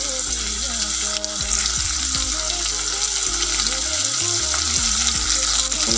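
Eel meat hits turmeric in a hot pan with a loud, close sizzle and crackle of frying that runs without a break, while a voice talks faintly in the background.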